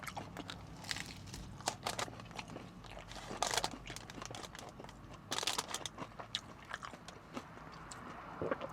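Close, crisp crunching of a hard taco shell being bitten and chewed, with sharp crackly bites scattered over steady chewing.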